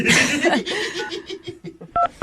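Telephone keypad dialing tones sound as two short, clear beeps near the end, following laughter and chuckling from people in a radio studio.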